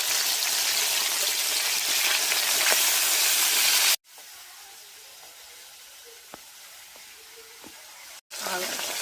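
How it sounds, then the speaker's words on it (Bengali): Steady loud hiss of oil sizzling in a pan, cut off abruptly midway to a quieter crackle before the loud sizzle returns. "তেল ফুটছে দেখো"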